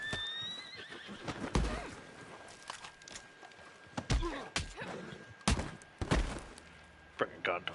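Horse neighing and whinnying in the video game Red Dead Online, mixed with clip-clop hooves, thuds and scuffle sounds, with someone talking over parts of it.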